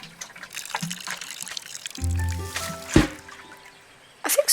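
Water poured over a plant in the botany puzzle game Botany Manor, a short splashing trickle with a soft gurgle, moderately close and alone without voices.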